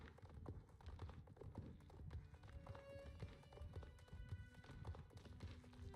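Horse hooves clip-clopping in the video game Star Stable as a horse named Butterfly is ridden at an easy pace, a quiet steady rhythm of hoofbeats throughout.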